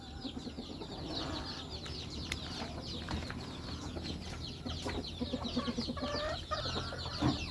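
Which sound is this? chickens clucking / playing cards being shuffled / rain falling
chickens clucking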